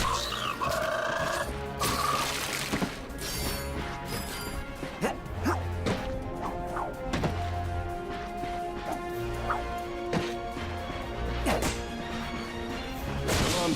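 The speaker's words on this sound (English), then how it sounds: "Look at him smashing crates." Crates smashing in the Ratchet & Clank video game, a run of sharp crashes and thwacks over busy game music and effects, loud and close.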